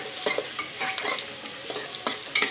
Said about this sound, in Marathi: पुलावला थोडं ब्राऊन होईपर्यंत कांदा परतायचा।